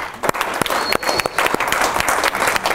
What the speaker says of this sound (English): So give him a round of applause for coming up.